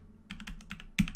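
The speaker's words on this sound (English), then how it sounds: "So we'll type inner join" Keys clatter on a computer keyboard as a SQL inner join query is typed, with short bursts of taps that build to two louder clusters at the end, close and isolated with no talk.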